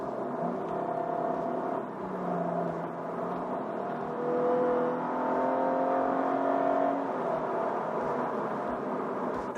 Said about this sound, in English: There's nothing like hearing the motor.